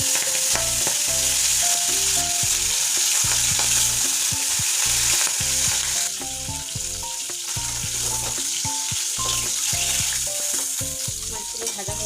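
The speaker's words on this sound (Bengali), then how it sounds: "তেলটা আমার একদম গরম হয়ে গেছে, ধোঁয়া উঠতে শুরু করেছে। এবার আমি মাছগুলো ছেড়ে দেবো।" Fish for a coriander fish dish fry in smoking-hot oil, giving a loud, continuous crackling sizzle with background music underneath, steady for the whole stretch.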